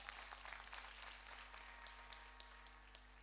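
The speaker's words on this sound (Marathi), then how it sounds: "कल्याण गुरुजीसाठी जोरदार टाळ्या." Applause from an audience at a Datta Jayanti celebration and Gurucharitra recitation gathering, a steady wash of clapping for a guru, fairly distant and continuous over a low hum.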